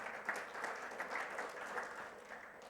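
Steady applause from a church congregation during a Sunday worship service, a dense continuous patter of many hands clapping at moderate level, with no talk over it for the whole stretch.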